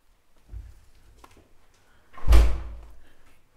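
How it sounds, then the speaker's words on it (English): Door of a reputedly haunted old school building being opened, a soft thud followed by a louder heavy knock and scrape as it swings, in a quiet room. "I'm going to open the door for you, spirit."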